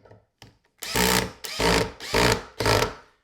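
A cordless drill spins on its lower speed setting, with a few short trigger taps followed by four loud, close whirring bursts of about half a second each, separated by brief pauses.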